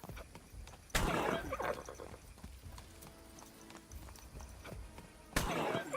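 Horse galloping in the medieval game Kingdom Come: Deliverance II, steady clip-clop hoofbeats with sharp louder bursts near the start and end, moderately close with no talking.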